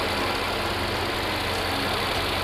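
A Mercedes-Benz S-Class W222 S63 AMG 4MATIC+ idles with a steady, even engine hum and rumble heard from close by in the engine bay, with no talking.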